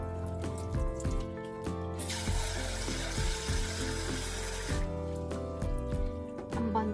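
Reddish soaking water drains out of soaked sorghum in a kitchen sink, making a running, splashing pour that swells for a few seconds in the middle and trickles before and after.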